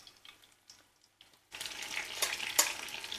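Eggplant pieces frying in a pan for an oven-baked family dish, a quiet start giving way to steady, close crackling sizzle with sharp spatters, no talking.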